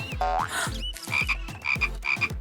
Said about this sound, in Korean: 개구리야.